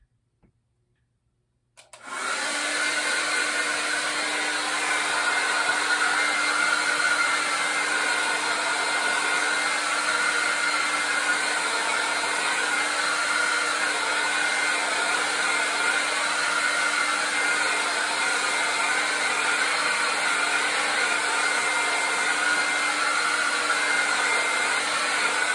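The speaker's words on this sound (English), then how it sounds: "So I'm gonna flip this again so I can dry off this edge. Only because my cord's not that long for my blow dryer." A handheld blow dryer drying an acrylic painting switches on after a moment of silence, then runs as a steady, loud, close-up whir for over twenty seconds with no talk.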